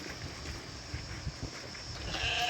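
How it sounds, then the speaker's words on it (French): Sheep bleat faintly on a hillside along a gorge hiking trail in Crete, with a few short calls over soft outdoor background noise and no talking. "Mouton."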